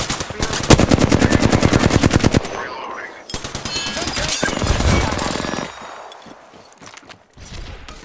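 Rapid automatic gunfire from an Apex Legends firefight, loud, close bursts rattling in a fast steady rhythm, pausing briefly, then resuming before fading into scattered lighter shots.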